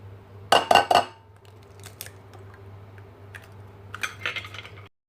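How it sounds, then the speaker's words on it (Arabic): Eggs cracked against a bowl in a home kitchen while making gulab jamun and ras malai dough: a quick cluster of three sharp shell cracks, then faint clicks and a few more light taps near the end, with no talking. "أول شي بكسر البيض"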